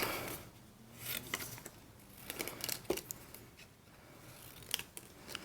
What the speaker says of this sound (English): what I'll do is I will just roughly cut them apart